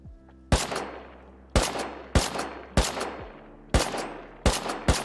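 About seven sharp gunshots ring out at irregular intervals in the video game Rust, each loud and cracking with a short echoing tail.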